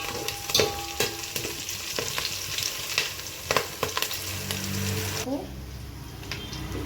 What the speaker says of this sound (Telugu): అల్లం వెల్లుల్లి పేస్ట్ కూడా ఫ్రై అయిపోయింది